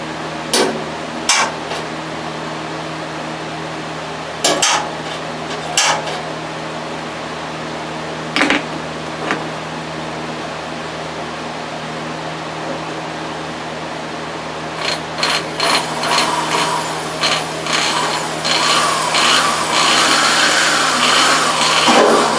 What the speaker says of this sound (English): So I'm going to drill holes and then I'll use the step bit.